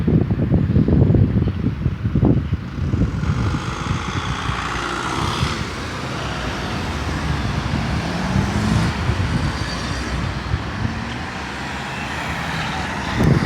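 Road traffic at an intersection in Poland with many cars passing, a continuous roar of engines and tyres heard from a moving bicycle, with heavy wind buffeting the microphone throughout.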